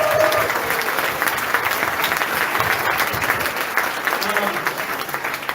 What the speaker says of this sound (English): let's give him and the other speaker a round of applause for the work that they